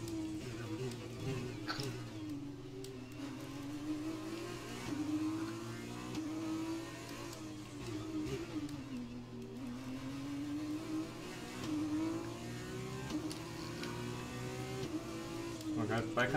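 Formula 2 race car engine in a racing video game, a steady droning whine that rises and falls with revs throughout, moderately loud and continuous, with faint talk at times underneath.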